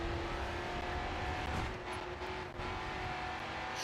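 A race car engine in Race Driver Grid 2 revs hard and steadily at close range, the throttle feathered with a brief dip before the drone resumes, with no voices over it.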